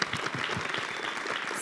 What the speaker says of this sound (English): So give them another round of applause like you did and congratulate them.